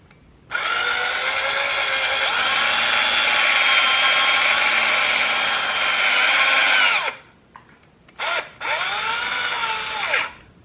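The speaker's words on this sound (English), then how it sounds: "So we're going to drill all that out" A power drill bores out plastic on a motorcycle turn signal mount for a Vulcan 650, whining loudly and steadily for about six seconds, then stopping before two shorter bursts of drilling.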